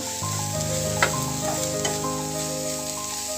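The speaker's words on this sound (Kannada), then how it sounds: "ಕ್ಯಾರೆಟ್ ಕೂಡ ಸ್ವಲ್ಪ ಎಣ್ಣೆಯಲ್ಲಿ ಫ್ರೈ ಮಾಡ್ಕೋಬೇಕು ಈ ಥರ" Carrots fry in oil in a pan for a carrot palya, with a steady, close, even sizzle and crackle throughout and a couple of brief louder spatters.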